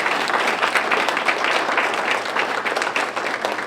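A room applauding Mary Helmick at a press conference, with dense, even clapping from many hands that carries on steadily through the clip and no one talking.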